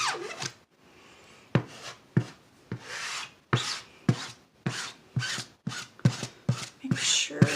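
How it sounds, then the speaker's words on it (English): A squeegee scrapes excess chalk paste off a stencil in a series of short, rhythmic rasping strokes, each a close, crisp swipe with brief pauses in between. "I'm going to go over the entire thing, scraping up the excess"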